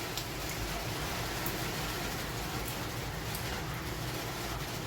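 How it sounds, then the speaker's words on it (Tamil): Steady rain falling on a rooftop garden in Chennai during the first summer shower, a dense, even hiss of drops holding at one level throughout with no pauses. "சென்னைக்கு சம்மரில் இது ஃபஸ்ட்டு மழை"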